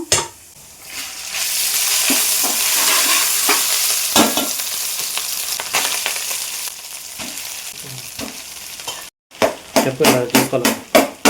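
Chicken fried rice tossed over a high flame, with a loud, steady sizzle under repeated scraping and stirring strokes, a short gap near the end, then a run of sharp rhythmic clacks of spatula on pan.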